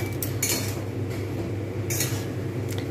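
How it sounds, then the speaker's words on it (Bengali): A lid comes off a cooking pot of red amaranth greens and vegetables simmering in water, giving two short metallic clinks and scrapes over a steady low bubbling hum. "এবার ঢাকনাটা খুলি।"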